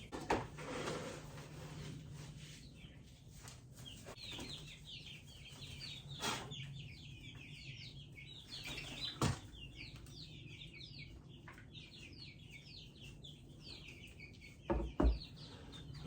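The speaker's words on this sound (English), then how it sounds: "We're going to go feed our meat birds." Meat chickens clucking at feeding time in a farm run, a faint busy chorus of overlapping clucks and chirps at moderate distance, with occasional clanks and knocks from feeding equipment.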